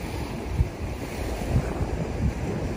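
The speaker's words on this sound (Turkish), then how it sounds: "Deniz havası iyi geldi ama çok dalgalı, dediğim gibi buraya kadar gelmiş bakın" A rough sea sends waves breaking onto the shore in a steady, roaring wash, with heavy wind buffeting the microphone and no voices.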